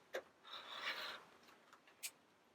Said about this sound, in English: Then I'm going to trim on the right hand side.